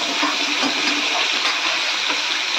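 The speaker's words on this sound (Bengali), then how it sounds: "এখন একে একে মাছগুলোকে দিয়ে দিলাম।" Pieces of kalbaush fish fry in hot oil in a wok, giving a loud, steady, hissing sizzle that runs unbroken throughout, with no voices.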